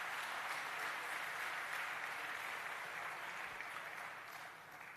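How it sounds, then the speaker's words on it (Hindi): Applause from a large crowd at an outdoor Rally for Rivers event in Indore, a dense, steady roar of clapping that stays loud throughout and tapers slightly near the end. "ऐसे भाई देवराज जरा ताली बजाकर देवराज का भी अभिनंदन करें।"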